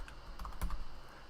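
A few soft keystrokes tapped on a computer keyboard, brief and close, with a slightly louder clack near the middle amid quiet background.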